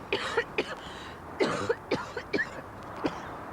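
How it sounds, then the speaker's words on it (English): A harsh, nasty cough in a doctor's-surgery drama: a string of rough, throaty coughing bursts, close and fairly loud, coming in uneven fits with short gaps between them. "It's a nasty cough."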